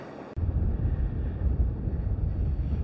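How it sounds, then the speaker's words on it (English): Strong wind roars across a snowy winter beach on the New England coast, blowing snow and sand, a steady loud gusting rush close to the microphone after a brief quieter start, with no talking. "So this is actually how windy it is today. You can see the snow and the sand blowing across the beach."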